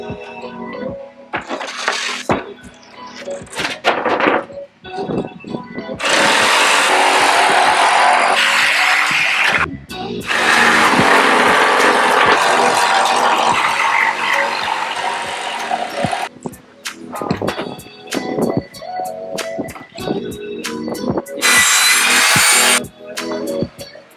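A power saw cuts arch shapes out of plywood in loud bursts of rasping, buzzing sawing, separated by quieter gaps filled with clicks, knocks and handling of the wood.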